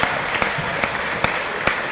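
Applause from both teams at a women's netball match between Ringwood and Nunawading, a light patter of clapping with several sharper claps standing out at even intervals, moderately loud and without speech.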